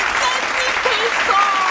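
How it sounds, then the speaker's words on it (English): A round of applause and cheering, dense and loud, filling the short moment evenly with a crowd-like wash and no break. "A round of applause for our new star."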